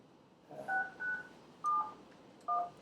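Telephone keypad tones dial into a hospital board meeting's conference call line: four short, distinct beeps spaced apart, clear and alone against quiet room noise.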